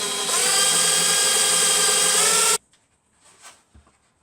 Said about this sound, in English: this is 35mm Forstner bit, so we'll see how that works